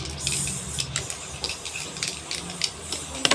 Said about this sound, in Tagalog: Mag-spray nga sa face ko.